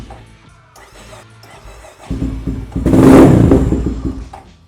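A 1990 Honda GB500 single-cylinder motorcycle engine fires up without choke, rising from a low idle into a louder, throbbing run that peaks briefly before easing off, close by and with no talk over it.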